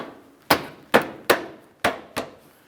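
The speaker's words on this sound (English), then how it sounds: "We'll take that bumper cover, align it properly, and press it into position." Plastic bumper cover on a 2006-2012 Ford Fusion being pressed and snapped into position, giving five sharp, close knocks at irregular intervals with quiet between them and no talk.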